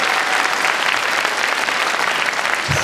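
A studio audience at a Korean TV quiz show claps continuously, a dense, even wash of applause from start to finish.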